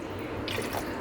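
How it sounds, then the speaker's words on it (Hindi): Half a cup of water goes into a cooking pot with ghee for kunna gosht, a brief close splash and trickle over steady kitchen background noise, lasting about a second. "और साथ ही हम इसमें आधा कप पानी डालेंगे"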